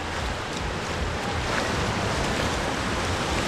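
Ocean surf rolling in at Old Orchard Beach, Maine, at sundown in peak summer, a steady broadband wash of breaking waves with some wind noise, continuous and fairly close.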